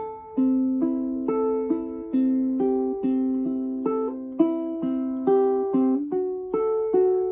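Ukulele fingerpicked in a steady repeating pattern of House of the Rising Sun, with slightly uneven, hesitant chord changes between phrases; clean and close, no voices.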